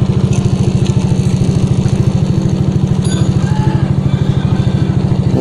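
A Yamaha NMAX scooter engine runs steadily nearby, a loud, even low putter with a fast regular pulse and no break.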